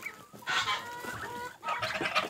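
Egg-eating farm chickens clucking close by, a rapid chatter of overlapping clucks and short squawks in two bursts, with no talk.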